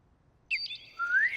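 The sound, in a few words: person imitating bird sounds for a radio play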